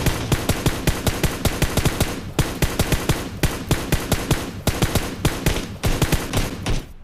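Full-auto gunfire in the mobile game PUBG Mobile, rapid loud bursts of evenly spaced shots in several strings with brief pauses between, close and punchy with no talk.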